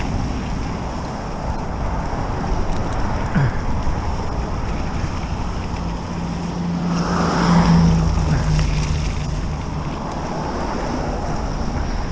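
Road traffic rushes past a rider on an e-bike fitted with a Bafang BBS02 mid-drive motor, heading toward New Sudbury from Howie Drive. Steady wind-buffeted roar with one vehicle swelling close by midway, no talk.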